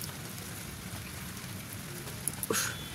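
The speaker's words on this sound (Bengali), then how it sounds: "এখন এত জোরে বৃষ্টি পড়ছে" Heavy rain falls steadily outdoors as a soft, continuous wash of hiss, with a few sharp drips or taps near the end.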